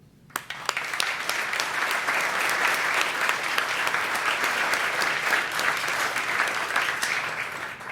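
A crowd of diners at the 2019 Swarthmore Garnet Athletics Hall of Fame dinner bursts into loud, sustained applause. After a brief quiet moment, dense clapping fills the hall steadily for several seconds.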